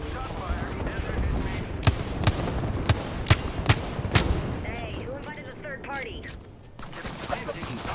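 Rapid bursts of video game gunfire, loud and close, with single sharp shots and quick volleys. A player talks over the fighting.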